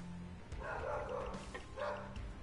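A dog barks twice from somewhere nearby, the two rough yelps separated by a short pause over a quiet room hum.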